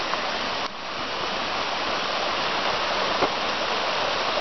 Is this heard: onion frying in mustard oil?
no